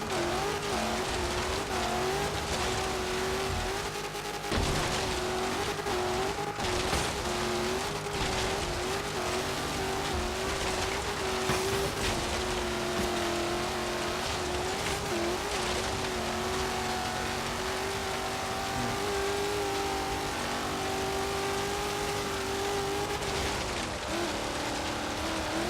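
Engine of a car not built for off-roading driven over rough terrain in Forza Horizon 3, a loud continuous revving drone that rises and falls, with rattling and splashing sounds throughout.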